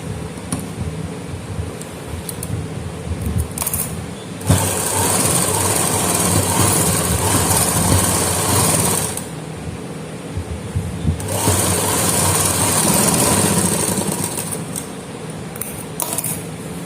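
Sewing machine stitching lace onto the sleeve fabric of a pintuck-style sleeve design, running in steady whirring bursts with brief pauses between them and no talking.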